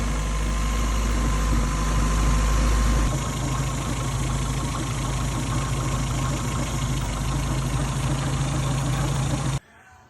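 A Suzuki Samurai with a swapped-in 1.6-litre 16-valve engine idles steadily and loudly close by after a crank seal change and retiming, a heavier rumble in the first three seconds settling into an even idle before cutting off at the end.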